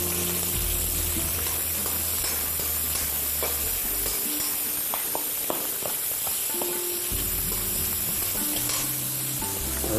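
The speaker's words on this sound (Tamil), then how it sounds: "போட்டு இப்போ நான் ஆனியன் போட போகிறேன்" Onions frying in a pan with cinnamon, cardamom, star anise and fennel, a steady close sizzle and crackle with stirring scrapes and knocks throughout.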